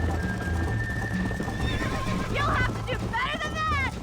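A horse in the Red Dead Redemption video game gallops with steady clip-clop hoofbeats and lets out a loud whinny near the end, while a person talks over the game sounds.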